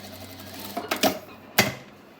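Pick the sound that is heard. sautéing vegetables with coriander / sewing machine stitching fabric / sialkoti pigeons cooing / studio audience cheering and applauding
sewing machine stitching fabric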